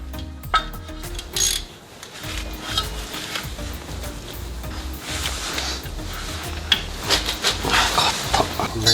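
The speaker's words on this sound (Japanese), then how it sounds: "本当に一回ソケットで回してみるか。" Socket wrench turning a seized stabilizer link nut on a Suzuki Every DA64V van, heard as a steady stream of close ratcheting clicks and metallic scraping with irregular louder knocks throughout.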